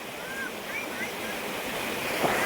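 Fast, surging river waves sweep past like a flood, making a continuous, loud rushing wash mixed with wind buffeting the microphone and faint voices in the background.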